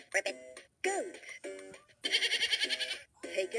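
A toy plays a goat bleat in several wavering, bleating bursts, loud and close, with short pauses between them.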